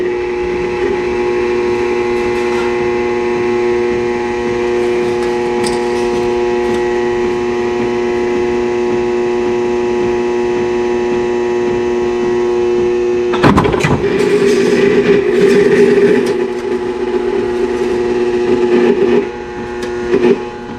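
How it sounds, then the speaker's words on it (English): A power shear cuts sheet metal for the passenger side of a Chevrolet Silverado: a steady machine hum runs throughout, then a loud, harsh burst of cutting comes partway through and lasts a few seconds. "Man, it's nice to have a power shear."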